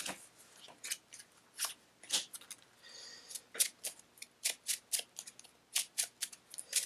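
Playing cards are drawn one after another from a deck during a card game, giving a string of crisp, sharp snaps and flicks in quick uneven rhythm, close and quiet with no voices.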